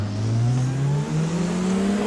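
A Tatuus F3 race car engine in rFactor 2 at Imola, revving hard and climbing in pitch with a brief dip near the middle. The whine is loud and close, with no talking.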